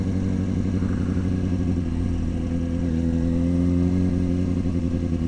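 Motorcycle engine running steadily while riding to scrub in new tires, a loud continuous drone with slight rises in revs and no talking.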